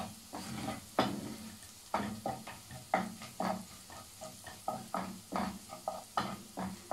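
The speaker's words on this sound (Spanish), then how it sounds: "Vamos a hacer que dore un poquito la cebolla." Onion browning in a frying pan over low to medium heat for squid-ink risotto: a soft, steady sizzle under repeated close scraping and stirring strokes of a utensil against the pan, with no voices.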